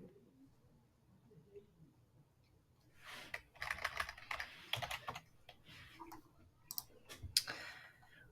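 Quiet room, then a burst of fast, light keystrokes on a computer keyboard in short clustered runs, with a few pauses and faint background noise.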